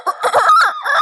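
A person's voice imitates a rooster crowing, one loud close cock-a-doodle-doo call about a second long, strained and rising in the middle before trailing off.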